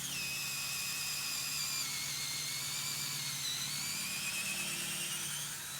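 A drill bores a tap hole into a backyard maple tree, a steady whining motor with a gently wavering pitch that runs continuously and close by.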